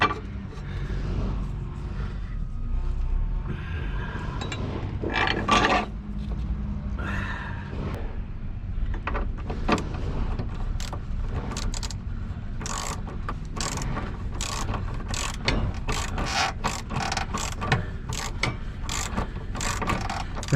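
A bolt is threaded into the lower control arm of a 1998 Honda Civic, with repeated ratchet clicks and metallic scraping in bursts, close and fairly loud.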